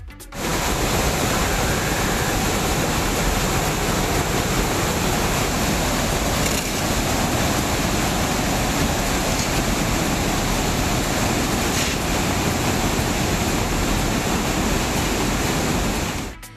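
The Thamirabarani river surges out of the Srivaikuntam check dam at about 27,000 cubic feet per second. The flow makes a constant, dense roar from start to finish, with no talk.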